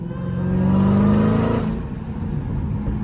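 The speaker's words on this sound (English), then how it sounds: "But y'all can hear that exhaust, though." A Dodge Hellcat's exhaust revs up hard and close, rising to a loud snarling peak, then falls back to a rumbling idle.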